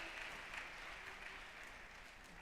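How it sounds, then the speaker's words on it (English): An audience claps hands steadily for people arriving at the door of a first-year student event, forming a dense, continuous wash of applause at moderate level with no pauses. "Clap hands for everyone that's arriving."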